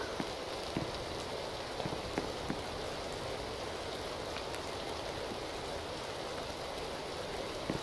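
Steady rain falls on a forest in a Roblox game: a dense, continuous hiss with faint scattered drips, even and unbroken, and no talk.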